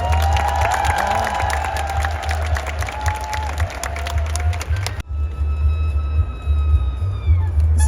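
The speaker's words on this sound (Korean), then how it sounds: "힘내시라는 의미로 박수 한번 드리면 좋을 것 같습니다." Crowd at a Busan International Film Festival handprinting event for Chow Yun-fat applauding and cheering outdoors, a continuous roar of clapping and whoops with a dip midway, loud and steady under a low rumble.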